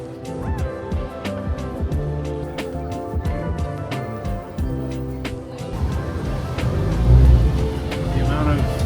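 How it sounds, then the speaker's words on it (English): Steady traffic of fancy cars such as Range Rovers, Porsches and Maseratis on a busy Beirut street, a continuous rumble of engines with passing vehicles swelling louder near the end. "Fancy cars here is crazy."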